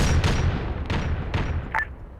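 Four crack missile counter-battery artillery shots fire in a video game. Each one is a sharp, loud boom or crack, spaced roughly half a second apart, and a short high whistle follows near the end.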